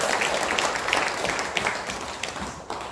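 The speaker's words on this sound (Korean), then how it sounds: "같이 박수하겠습니다" A church congregation claps together during a Sunday service, many hands making a dense, uneven patter with a few sharper individual claps before it thins out toward the end.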